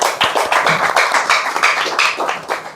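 A small audience at an Indonesian talk event on photography and the creative economy claps for the speakers, with dense, steady hand claps that carry nearby and at an even level through the whole moment with no talking.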